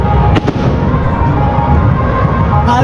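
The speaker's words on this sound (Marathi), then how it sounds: "ते बघ फटाके बघा." Loud, continuous crackling and booming of fireworks close by at the Ratneshwari Aai palkhi procession in Uran, with a couple of sharper bursts near the start.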